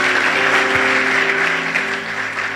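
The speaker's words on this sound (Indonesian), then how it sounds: "Kasih tepuk tangan buat Tuhan kita." Church congregation applauding during a sermon, a steady wash of clapping that holds loud throughout and tapers slightly at the end, with no talking over it.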